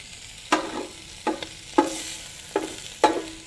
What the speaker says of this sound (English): As you can see, they're just slightly pan fried.